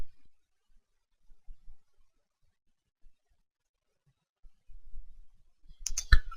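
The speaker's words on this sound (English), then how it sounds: "You click on the Activate button." A single sharp mouse click lands near the end of a nearly silent stretch, preceded by faint low bumps of handling.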